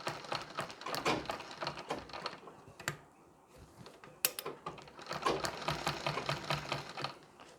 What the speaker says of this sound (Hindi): एक एक पिन निकालते जाएंगे और सिलाई लगाते जानी है।